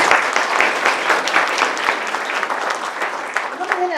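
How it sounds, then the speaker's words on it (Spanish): Audience applause at a university lecture on Mexico's electoral process: dense, steady clapping from a crowd lasting about four seconds, loud and even throughout, with no talk over it. "Un fuerte aplauso, por favor."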